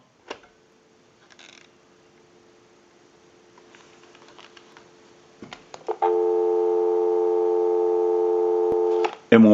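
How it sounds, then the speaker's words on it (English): A Western Electric French-style desk telephone handset lifted to a steady dial tone, preceded by faint clicks and handling noise, the continuous hum holding for about three seconds before cutting off. "Go ahead and give you some dial tone."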